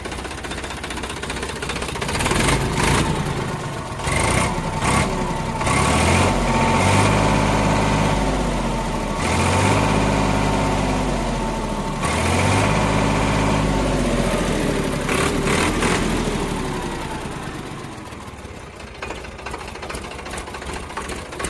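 Sonalika 60 tractor in real condition ticking over at idle, a steady diesel chug with rhythmic knocking pulses and a few brief revs, close and unbroken, with no one speaking.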